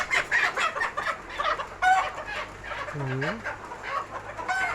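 Village hens and roosters in a coop during rain, clucking and squawking close by, with one drawn-out crow-like call in the middle, over a steady background hiss.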